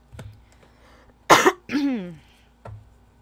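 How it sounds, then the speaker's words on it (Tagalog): A single harsh cough bursts out, followed by a throaty, voiced clearing sound, with softer short breaths or thumps before and after. "Ubo muna tayo."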